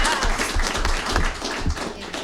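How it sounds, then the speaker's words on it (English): Audience applause for a panel at a water quality conference, a dense wash of clapping from a crowd in a hall, loud and steady throughout the short burst. "I think they deserve a round of applause"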